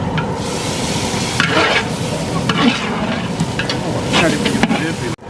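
Garlic paste sizzles loudly in a pan for wedding-style mutton biryani, with repeated scraping stirs of a spoon breaking through a continuous close crackle.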